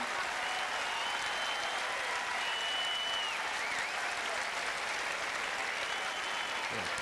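A Wimbledon tennis crowd applauds after a point in the Edberg–Krajicek match, a steady wash of clapping from a large distant audience that holds evenly throughout without fading.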